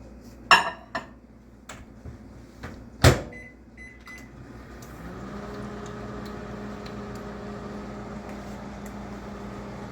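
A few kitchen clunks and a door thud, then a steady low electric hum settles in and drones on without pause.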